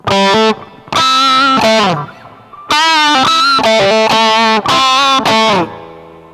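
A distorted electric guitar through an EHX Metal Muff Pocket pedal with the clip off plays sustained lead notes in phrased bursts with short gaps, loud and close, with bends and vibrato on held pitches.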